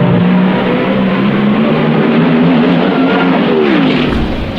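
Funny car drag racers roar off the line at New England Raceway, a loud, sustained engine howl with a rising pitch that holds steady and dips near the end, close and overwhelming with no voices.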